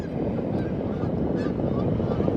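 Geese flying overhead in formation give faint, scattered honks over a steady wash of wind and outdoor noise.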